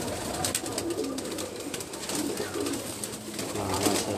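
Pigeons coo repeatedly on a rooftop, soft rhythmic calls over a steady background hiss.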